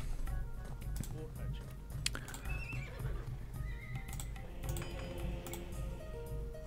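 Horses neigh and hooves clip-clop in the video game Age of Empires 2, a whinny rising over a dense battle ambience with low rumble and clicking, moderately loud.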